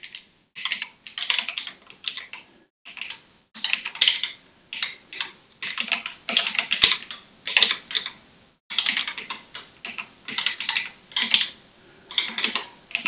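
Typing on a Voyager split computer keyboard: close, steady clusters of light key clacks in bursts with short pauses, alone without talk.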